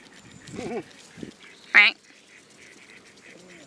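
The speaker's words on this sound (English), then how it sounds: "What sound does a swan make?" A swan gives one short, nasal honking call against quiet outdoor background, with a fainter call shortly before it.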